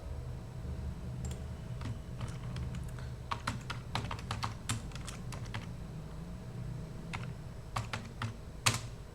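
Typing on a computer keyboard: irregular bursts of light, close key clicks over a steady low hum, with no talking.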